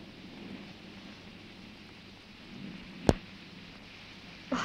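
Heavy rain pours steadily in a broad, even hiss throughout, with a single sharp crack midway and a brief louder burst at the very end.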